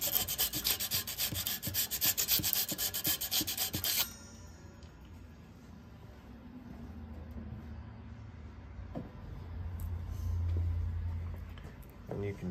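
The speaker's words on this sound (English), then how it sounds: "just a little bit of light sanding should be enough to get that oil and grease out" Rough rubbing strokes of light sanding on a metal disc brake rotor, rapid and fairly loud for a few seconds, then quieter scraping and faint background rumble.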